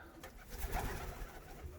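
A soft, low coo from a Polish Owl (Mewka Polska) pigeon, a short throaty rumbling call heard faintly and up close against quiet background noise.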